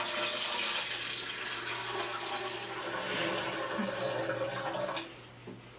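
Water pours steadily from an Aquasana filtration pitcher into a container, a continuous close splashing stream that runs for about five seconds before tapering off near the end.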